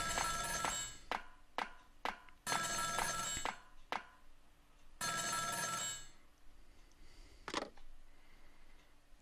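Old-style telephone bell ringing in the Ghost Trick video game, repeated loud bursts of ringing separated by short pauses and sharp clicks, clear and close.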